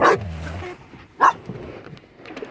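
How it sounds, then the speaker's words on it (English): Dogs bark outdoors on a windy day, a couple of sharp barks at moderate distance over a steady rumbling background, with no clear talk in between. "These dogs ain't barking at nothing but the wind."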